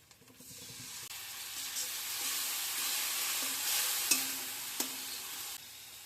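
Onion paste with turmeric and chili mixed in water hits a hot frying pan, giving a steady loud sizzle and hiss, with a few light clinks of a spoon against the pan.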